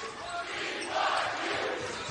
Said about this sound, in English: Crowd is finally getting into it.